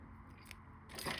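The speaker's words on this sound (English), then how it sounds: "we are going to cut that off short with our whip finish tool or scissors" A quick metallic snip of small scissors cutting tying thread on a Bead Head Pheasant Tail fly near the end, after a quiet stretch with faint handling noise.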